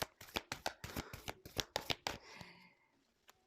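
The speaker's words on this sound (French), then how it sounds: "Pourtant, j'ai battu les cartes, c'est ouf." Cards are riffled and shuffled by hand in a quick run of close, crisp flutters and taps, then the deck settles into quiet.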